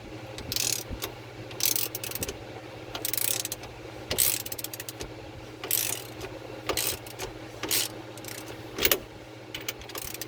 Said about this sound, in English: Now we'll move on to removing the steering wheel nut